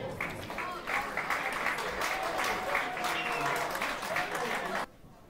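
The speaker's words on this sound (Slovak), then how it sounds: "Takže časomiera uplynula, poprosím o potlesk." An audience at a FIRST LEGO League robotics competition in Košice, 2019, applauds after the match timer expires. The sustained, fairly close clapping holds for almost five seconds, then cuts off abruptly, with a few voices mixed in.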